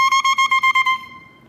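An oboe reed is blown on its own without the instrument, giving a buzzy, pulsing squawk of about seven quick bursts before it fades out.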